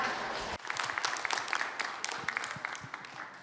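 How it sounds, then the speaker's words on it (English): A forum audience gives a big round of applause to five panelists at the end of a 2022 Jeju Forum session. Dense, continuous clapping fills the room after a short lead-in, with sharp individual claps standing out. "why don't we give another big round of applause to the 5 panelist members"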